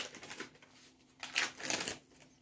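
A packet of dry yeast being torn open with teeth or scissors while making a mash for home-distilled alcohol: faint crinkling and tearing rustles, quiet and close, rising in a brief burst midway.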